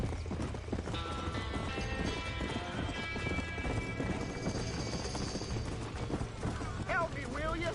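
In a Red Dead Redemption game scene with a barn on fire, horses' hooves clip-clop steadily while horses neigh and whinny, with people shouting over the commotion.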